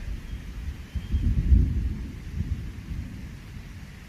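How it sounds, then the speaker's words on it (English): A low rumble of thunder rolls in over Red River Gorge ahead of rain, swelling to a deep peak and fading slowly, with no voices. "Here comes the rain, guys. Hear the thunder?"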